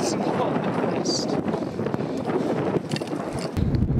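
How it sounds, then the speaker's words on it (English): Strong wind buffets the microphone near the summit of Snowdon, a loud continuous roar with gusty low rumble that swells toward the end, with a speaking voice partly masked underneath. "If you can't hear me, it's quite windy up here."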